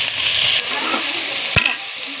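Onions fry in hot oil in a pan for an ivy gourd fry, a loud, close, continuous sizzle with a brief knock or stir partway through.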